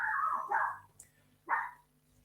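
A small dog called Choupette gives a few close yappy barks, a quick double bark followed by a single one after a brief pause, with a faint tick between them.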